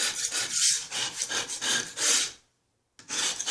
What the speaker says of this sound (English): to remove excess of silicone on an area like this